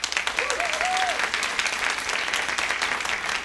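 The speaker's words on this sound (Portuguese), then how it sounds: "uma salva de palmas" A studio audience at a Brazilian television variety show claps after a ballet performance, dense loud applause throughout, with a brief voice rising over it near the start.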